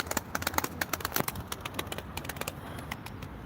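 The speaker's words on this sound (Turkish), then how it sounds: "Hadi kuşları kaldırdı." A flock of Ankara play pigeons flushed up from a stream bed takes off in a burst of wing clatter: rapid, sharp flaps, busiest at first, then thinning out as the birds rise away.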